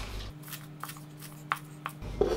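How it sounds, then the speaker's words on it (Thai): A knife chops spring onions into short lengths on a cutting board for a Thai shrimp curry stir-fry, a few soft separate chops over a quiet kitchen hum. "ต้นหอมก็เหมือนกันครับ หั่นไปท่อนๆขนาดพอๆ กับ ขึ้นชายไว้เลยนะครับ"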